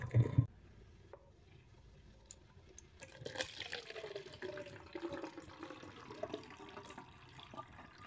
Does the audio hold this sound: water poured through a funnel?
yes